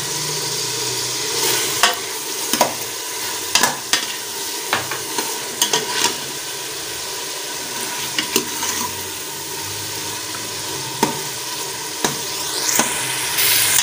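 Steady sizzle of ginger garlic paste frying in a pan, with a spoon scraping and stirring in irregular clacks throughout, close up and fairly loud, no talking.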